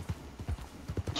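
Hooves of a mare in a video game, a quick close clip-clop rhythm of several steps with a short whinny mixed in.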